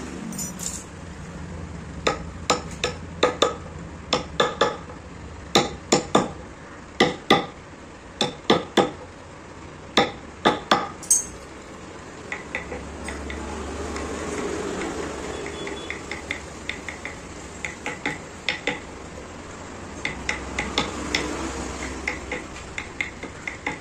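Sharp repeated scratches and clicks of a thin wire scraping burrs from a hand-carved wooden wheat-grain design, steady bursts in the first half, then sparser over a low background hum.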